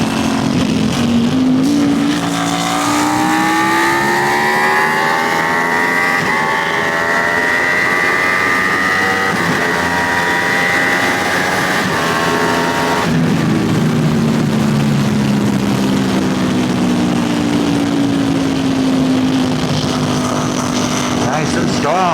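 A BT Moto tuned Ducati Panigale V4S motorcycle accelerates hard, its engine note climbing smoothly through the revs, dropping at a gear change, then rising again, loud and close with a rider talking over it.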